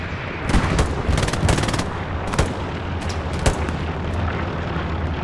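Gunfire in a competitive World War II shooter match on the Sainte-Marie map, with German machine-gun positions: loud, dense bursts of automatic fire and single shots crackle repeatedly over a constant battle din.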